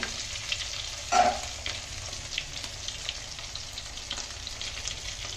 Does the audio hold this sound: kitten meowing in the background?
no